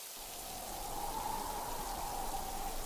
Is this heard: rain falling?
yes